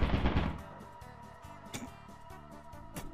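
A turret in the video game Lethal Company opens fire, with a loud burst at the start followed by scattered sharp shots and clicks fading into quieter rattling.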